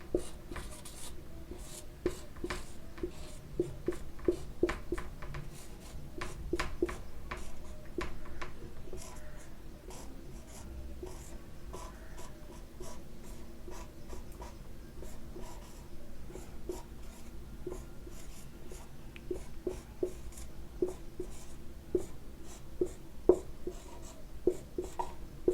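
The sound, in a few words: writing by hand during a lesson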